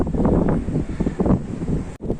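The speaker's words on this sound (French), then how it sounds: "Ah, le vent, le vent, le vent." Strong wind buffets a microphone on a monastery rooftop beside the sea in Greece, a loud, rough, gusting roar with pulsing swells and a brief dropout near the end, with no voices.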